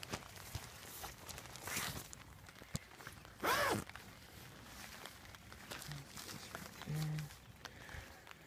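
Quick zipper pulls on a Big Agnes Copper Spur UL2 tent, a brief rasp followed by a louder longer one as the zipper snags, amid rustling and soft movement noises, with faint muffled sounds later.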